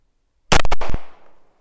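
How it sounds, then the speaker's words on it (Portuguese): A single loud pistol shot fired with original CBC factory ammunition, a sharp close crack with quick echoing reports that fade into a short tail. "Segundo disparo, munição original CBC"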